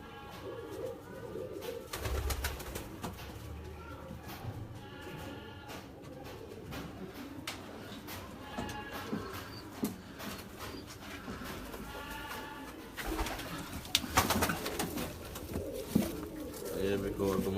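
Pigeons of a Kor Commander breed coo in a busy loft alongside other birds, with steady cooing and fluttering throughout and a person speaking over it.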